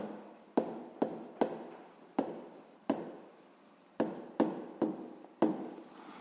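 Pen or pencil writing on paper during a sixth-grade math lesson, a series of about ten sharp taps each followed by scratchy strokes, close and clear with no talk.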